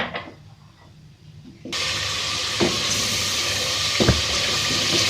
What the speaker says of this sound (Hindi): थोड़ा सा पानी डाल के मसाला भून लेते हैं।